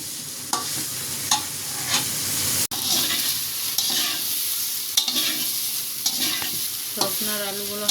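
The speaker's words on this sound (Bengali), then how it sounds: "সজনার আলুগুলো হালকা করে ভাজা হয়ে গিয়েছে" Drumstick (moringa) pieces and potatoes frying lightly in oil with turmeric and salt in a wok, a steady close sizzle broken by repeated scrapes and stirs of a spatula, with no talking.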